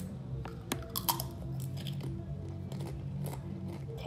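A snack being chewed up close, with faint crunching bites and irregular soft clicks over a low background hum.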